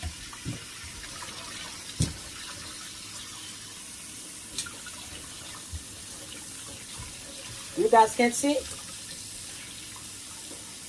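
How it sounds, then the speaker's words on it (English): A kitchen tap runs hot water to rinse a chicken being cleaned of skin and hair, a steady close stream with occasional splashes, while a person briefly speaks over it. "you rinse it with hot water."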